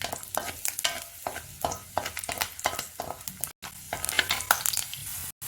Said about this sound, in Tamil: எண்ணெய் சூடானதுக்கப்புறமா அதில் வெள்ளைப்பூடு சேர்த்துக்கிறேன்